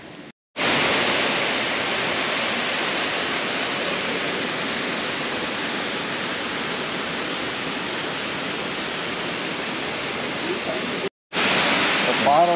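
Loud, continuous roar of rushing water from Athirappilly waterfall in monsoon flood, steady throughout with a couple of brief cuts.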